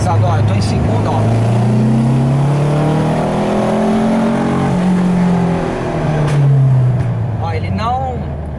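A carbureted car engine accelerating in second gear, a loud, close engine note sweeping upward in pitch, easing off and climbing again, with a voice speaking briefly over it.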